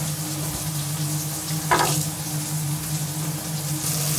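Chorizo sizzles in a pan, a steady close frying hiss with a brief louder burst of crackle partway through, no voices.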